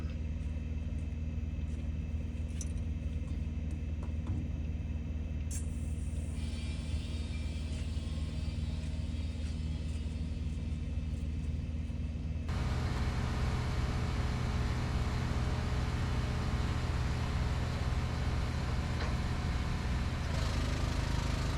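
A hydraulic gooseneck trailer lifts a CAT 988 loader, with a steady engine rumble and hydraulic drone that steps up louder and fuller partway through and then holds continuously.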